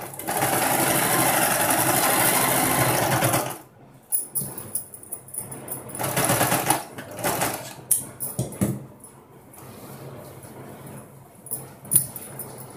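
A sewing machine stitching a folded fabric sleeve: a steady, close whirring run for a few seconds, then shorter stop-start bursts of stitching with handling noises between.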